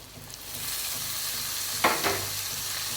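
Onions fry in oil seasoned with chilli powder for a Tamil prawn fry. A continuous close sizzle fills the clip, with a couple of spatula scrapes near the middle and no voices.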